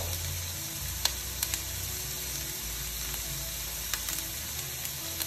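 Sliced onions sizzle quietly in a pan for chicken curry, a soft constant frying hiss with occasional light clicks from a spoon stirring them.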